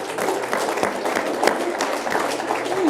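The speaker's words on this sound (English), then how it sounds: "while you're clapping" An audience applauding during a talk by Charlie Munger: steady, dense clapping that fills the room, with a voice speaking over it.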